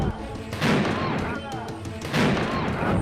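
Bomb blasts set off openly over a land dispute in Howrah district, West Bengal, come as heavy booming thuds and cracks, two large bursts rising over a dense, noisy background of crowd commotion.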